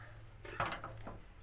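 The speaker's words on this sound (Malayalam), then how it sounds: "ലോ ഫ്ലെയിമിൽ വെച്ച് നന്നായിട്ട് ഇളക്കി കൊടുക്കാം." Porridge for children stirred in a pan over a low flame, with a few soft scraping and clinking touches of spoon against pan in a quiet kitchen.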